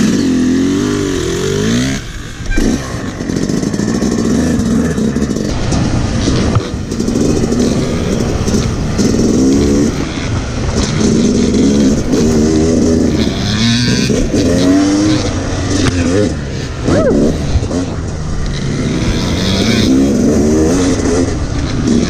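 A dirt bike engine revs continuously while being ridden on an off-road trail at Carnegie SVRA, loud and close, its pitch rising and falling with throttle changes and a few brief dips over about twenty seconds.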